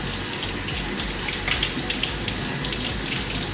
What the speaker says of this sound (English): First thing you got to do is wash your watermelon.